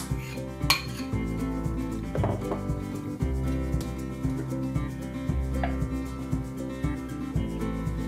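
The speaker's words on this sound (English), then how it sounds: "Now I'll add the curd, the hung curd this is." Hung curd going into a dish with a metal spoon, giving repeated clinks and scrapes of spoon against pot over a steady low kitchen hum, with a few sharper taps.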